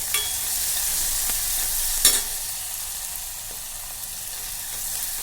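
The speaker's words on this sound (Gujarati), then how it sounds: "આને બ્રાઉન કલર ના થાય ત્યાં સુધી આને હું શેકી લઈશ એટલે કે ચેડવી લઈશ" Finely chopped vegetables browning over a medium flame in a pressure cooker for seasoned rice give off a steady, close sizzling hiss, broken by a couple of light clinks.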